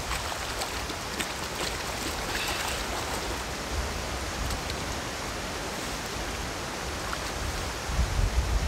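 Flowing river water rushes steadily as a flashlight is rinsed in it, a close, continuous broadband splash and gurgle holding an even level, swelling slightly louder near the end, with no talking.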